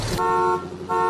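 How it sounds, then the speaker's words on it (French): Car horns honk in street traffic, a steady tonal blare sounding twice with a short break between, loud and near. "Tout à coup, les cris et les klaxonnements attirent l'attention."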